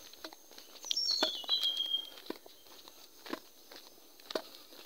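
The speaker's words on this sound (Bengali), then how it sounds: "পাখির ডাক শোনা যাচ্ছে" Birds chirping in a remote hill forest in Bandarban, with a few bright high whistles and tweets near the start over a quiet outdoor background with scattered soft rustles and taps.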